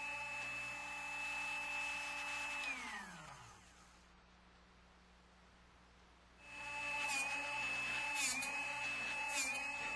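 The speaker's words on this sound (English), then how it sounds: "Now, sharpen the small bit, but use very light pressure and fewer white line to white line rotations." A Drill Doctor 360X bit-sharpening machine whines steadily as it sharpens a small drill bit on its wheel. The whine drops away into near silence, then returns with brief pitch wobbles where the bit lightly touches the wheel.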